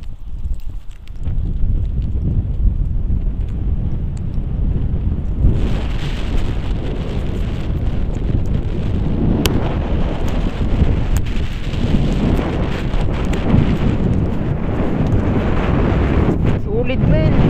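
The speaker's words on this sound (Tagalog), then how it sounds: "Parang tatangayin ka dito ng hangin eh." Strong wind roars and buffets the microphone in a continuous heavy rush during a Honda Fazzio scooter ride, with voices faintly audible beneath the gusts.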